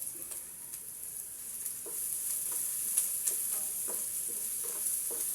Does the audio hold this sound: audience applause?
no